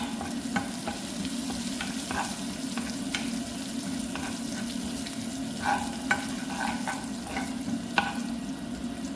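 Chillies frying in hot oil for rasam make a soft, continuous sizzle with occasional stirring clicks and scrapes of a spoon against the pan, close and fairly quiet.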